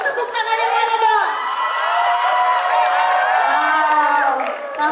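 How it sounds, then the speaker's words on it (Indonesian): An audience at an evening university talk show responds with loud crowd noise, cheering, whoops and shouting voices, sustained and close throughout, with scattered clapping mixed in. "tepuk tangannya mana dong?"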